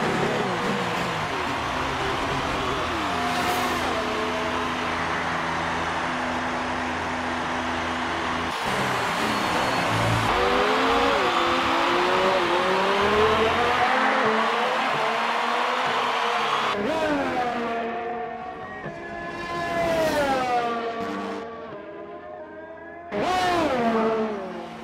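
A Formula 1 car in F1 2018 rolls back toward the pits after a black flag, its engine droning steadily, with a higher rising whine near the end. A voice speaks over it partway.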